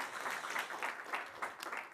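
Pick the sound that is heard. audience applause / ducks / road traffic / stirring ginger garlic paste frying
audience applause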